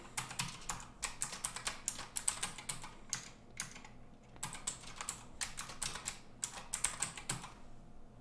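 Keystrokes on a computer keyboard entering a password during a Kali Linux install on Windows 10 come in quick bursts of clicky taps separated by short pauses, close and clear against a quiet room.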